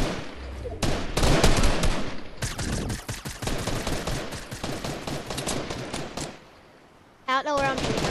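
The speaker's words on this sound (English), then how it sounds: "Ah, gunshots." Rapid bursts of automatic gunfire from the video game Fortnite crackle loudly and almost continuously for several seconds, with a brief pause near the end before firing resumes, while players talk over it.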